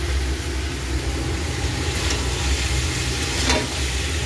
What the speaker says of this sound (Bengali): এই সবজিগুলো ঢেলে দেবো, একটু কষিয়ে নেবো